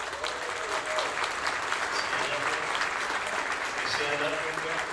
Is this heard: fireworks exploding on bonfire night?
no